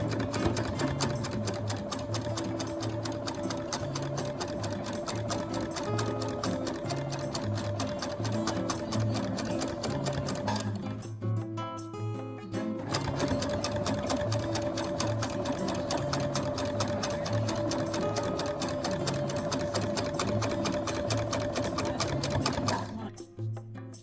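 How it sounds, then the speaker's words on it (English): A sewing machine stitches down the sides of a homemade reusable fabric face mask, running loud and steady with a rapid mechanical rhythm, pausing briefly midway before starting up again. "But first, let's sew the sides down."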